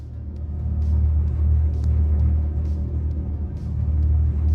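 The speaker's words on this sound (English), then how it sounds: "are we hearing the sound of the car?" A car engine rumbles steadily and loudly, a deep, continuous drone with a slight revving texture and faint clicks on top, and no voices.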